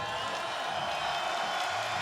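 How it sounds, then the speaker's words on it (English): Crowd cheering at an MMA event, a steady, dense roar of many voices filling the arena, continuous and fairly loud without clear peaks. "How about those cheers raining down on Magomed Abdullayev?"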